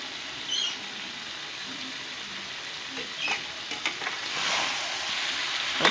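Fish pieces fry in a masala curry in a pan, a steady close sizzle and crackle with light patter and an occasional gentle scrape of stirring, no talk.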